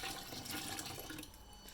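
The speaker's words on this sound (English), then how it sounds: "I'm gonna add some more water just to make a temporary rainfall." Water poured from a container into a bucket holding a flood sensor, used to simulate rainfall; a steady, close splashing and gurgling pour runs throughout with no voices.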